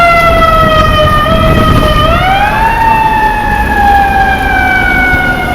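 A loud siren wails steadily, its pitch sliding up partway through and holding high, sounding close with a low rumble of traffic beneath.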